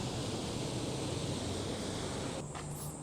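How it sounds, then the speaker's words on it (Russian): Faint, steady rush of water flowing into a roadside drain on a quiet Japanese street, a soft continuous hiss with no voices, distant and low in level. "Вода там течет."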